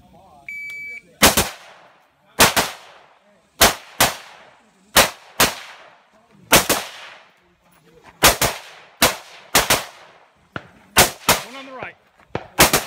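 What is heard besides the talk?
gunfire at a 3-gun shooting competition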